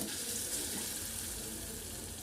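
Stuffed chili pakodas (mirchi bajji) deep-frying in oil in a kadhai, a steady, dense sizzle with a hissing, tap-like wash that holds at an even level throughout, with no talking.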